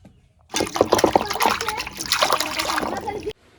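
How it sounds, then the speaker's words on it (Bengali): Cut tilapia pieces rinsed by hand in a vessel of water in a village kitchen, close splashing and sloshing for about three seconds before stopping abruptly. "দেখো মাছ কুইডে নিলাম, এখন ধুয়ে আনি।"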